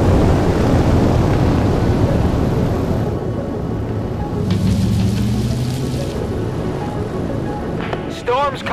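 Thunder rolls in ahead of an approaching storm in Forza Horizon 4, a heavy low rumble layered over steady rain, with a vehicle hum and a few sharp crackles near the end.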